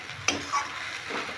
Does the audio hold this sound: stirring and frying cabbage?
yes